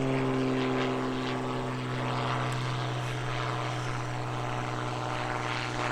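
Extra 300 aerobatic propeller plane climbing for altitude at a lakeside airshow, a steady loud droning engine and prop hum holding constant throughout with no talk.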